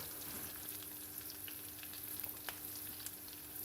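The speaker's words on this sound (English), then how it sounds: "Actually, it's frying in fat." Faint, steady sizzling of guanciale frying in its fat, a soft crackle with occasional small pops, no voices.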